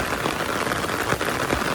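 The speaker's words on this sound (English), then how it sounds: "ये बारिश की आवाज़ जो है ना, अमेजिंग अमेजिंग" Heavy rain pours steadily in a dense, hissing wash of drops in Canada, close and continuous with no voices.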